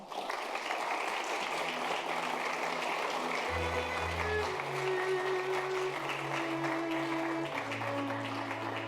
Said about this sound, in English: let's give one more round of applause to Paul and Kramer Levin